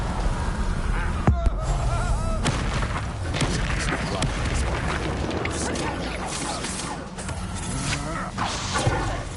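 Spell blasts burst within a dense, loud magical battle in Hogwarts Legacy, with booming impacts layered over constant music and effects.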